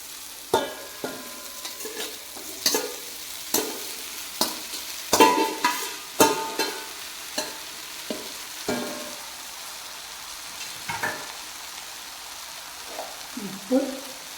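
Washed flattened rice goes into a pan and is stirred for poha, with a faint sizzle under a series of sharp, regular spoon scrapes and knocks against the pan.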